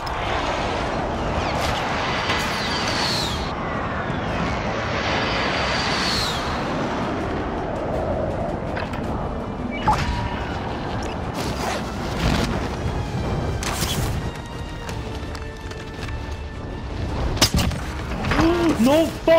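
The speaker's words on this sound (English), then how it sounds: "Be advised, friendly precision airstrike inbound." A friendly precision airstrike in Call of Duty: Modern Warfare, with jets roaring overhead, rolling explosive rumbles and scattered sharp blasts over an extended stretch that swells again toward the end, with voices talking over parts of it.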